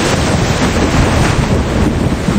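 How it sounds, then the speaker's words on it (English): Hurricane wind howls over big sea waves in a children's cartoon, a steady loud roar of wind and surf with a boat moored nearby, continuous with no pauses. "There are big waves on the sea."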